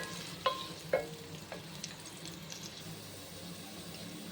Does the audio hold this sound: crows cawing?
no